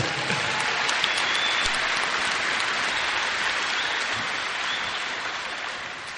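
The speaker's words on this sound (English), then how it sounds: "Can we give the committee another big round of applause?" Dense, sustained applause for the committee at a Founder's Day 90th gathering in Akron, Ohio, a steady wash of many hands clapping that holds loud throughout and eases slightly near the end, with no voices on top.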